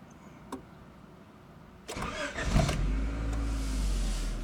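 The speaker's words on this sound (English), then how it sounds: "We're going to go ahead and start this car." A click and brief cranking, then a 1992 Honda Accord 2.2L engine catches and settles into a steady idle.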